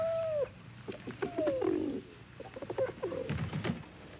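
Pigeons coo softly in a series of low, rolling calls with short pauses between them, heard nearby in a quiet setting.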